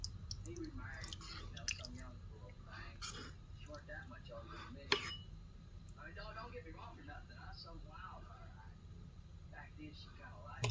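Someone chewing a mouthful of pot roast beef and potato close up, with quiet, wet, squishy bites and soft mouth sounds that continue steadily and faintly throughout.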